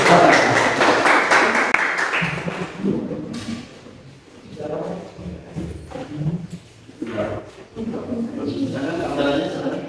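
A crowd claps in a dense burst of applause for a group presentation, fading out, followed by a voice speaking with occasional scattered claps.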